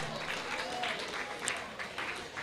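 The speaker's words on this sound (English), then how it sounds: "Please put your hands together for Miss Precious." Applause from an audience for a woman being called forward, a brief patter of clapping that comes in soft pulses at a moderate distance, with faint voices murmuring underneath.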